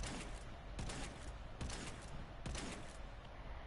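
Shotgun fire in the Warframe video game comes as a string of punchy blasts at a steady rhythm over dense constant game noise, fairly faint overall.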